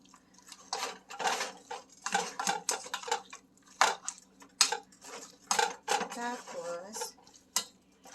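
A spoon stirs onion, garlic, ginger and tomato in a pan, with repeated scraping strokes and metal clinks in an uneven rhythm and faint sizzling underneath, close by.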